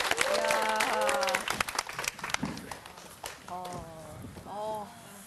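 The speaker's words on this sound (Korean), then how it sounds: "여러분 박수 한번 주십시오." An audience at a Korean lecture applauds: a burst of clapping for the first couple of seconds, mixed with voices, then the applause thins while talk continues.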